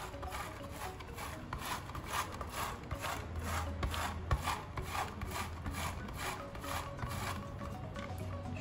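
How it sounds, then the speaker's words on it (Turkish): Frozen, hardened dough rubbed against the coarse side of a grater gives a steady, close rasping scrape in continuous back-and-forth strokes, with no talking. "Onu rendenin kalın tarafıyla şöyle üzerine rendeliyorum."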